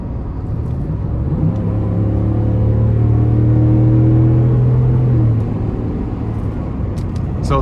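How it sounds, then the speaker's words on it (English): A 2019 Ford F-150 XLT with a naturally aspirated V8 accelerates hard from about 60 mph, its engine note rising steadily as a loud, continuous rumble heard from inside the cab, then easing off near the end. "So the good thing is you have a naturally aspirated V8, so you get a good pull from that kind of sweet spot there."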